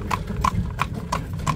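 A horse's hooves clip-clop on a hard street in Taroudant, Morocco, five crisp evenly spaced strikes within about a second and a half, close to the listener.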